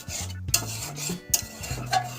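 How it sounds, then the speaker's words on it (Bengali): A spoon scrapes and stirs potato curry with spices and water in a pot, making short rasping strokes in a loose rhythm with a few light clinks, close and alone. "জলটা ভালো করে যাতে আলুর সাথে মশলাগুলোর সাথে মিশে যায়, তাই আমি একটু নেড়ে নিলাম ওপর নিচ করে।"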